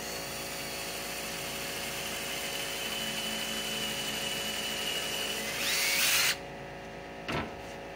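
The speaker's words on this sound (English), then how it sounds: "pre-drilling me a little hole right there." A power drill pre-drills a small pilot hole into a wooden cross brace of a homemade catfish slat trap, a steady high whine running close and loud for about six seconds before cutting off, followed by a brief knock.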